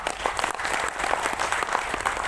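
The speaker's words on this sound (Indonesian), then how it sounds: "tepuk tangan dulu." Audience members at an APKASINDO board inauguration in South Sumatra clap in a brief, dense burst of applause lasting a couple of seconds.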